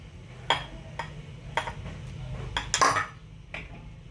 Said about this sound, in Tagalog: Tapos ilagay ko na ang gulay, repolyo, tsaka yung pitsay